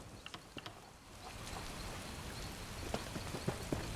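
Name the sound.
rain falling in The Elder Scrolls Online video game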